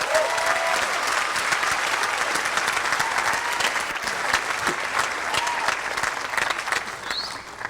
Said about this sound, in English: Give a round of applause again for our graduates.